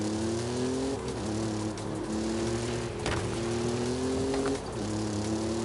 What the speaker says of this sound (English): I don't know about this exhaust, though.